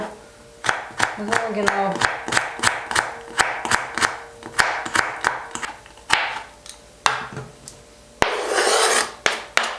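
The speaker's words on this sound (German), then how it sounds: "Also ich schneide sie einfach jetzt in Streifen." A knife chops vegetables into strips on a cutting board while plov is prepared, giving a steady run of sharp, close, regular cuts with a brief pause and a denser rasping burst near the end; a voice speaks briefly.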